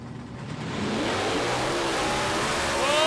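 Nitro funny car at Palmyra Dragway launching hard down the drag strip, a loud, close engine roar building within the first half second into a sustained, rising blast that carries through to the end.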